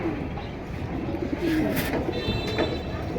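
Pigeons coo softly nearby in a loft, low throaty calls repeating over a steady background hum, with no talking.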